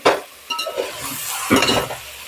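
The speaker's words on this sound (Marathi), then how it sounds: "आणि ते हलवून घ्या व्यवस्थित" Mixed vegetables stirred in a frying pan for a Maharashtrian bhogi rassa bhaji, a spoon scraping in short bursts over a soft sizzle, with a couple of light metallic clinks.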